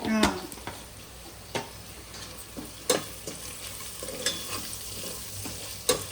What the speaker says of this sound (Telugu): ఇది ఎంతసేపు అలా ఫ్రై చేసుకోవాలి?